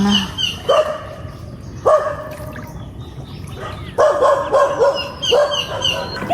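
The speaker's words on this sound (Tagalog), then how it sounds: "Dito po yung maraming aso." Several dogs bark loudly and close by in repeated bursts, some yips mixed in and higher barks overlapping in the background.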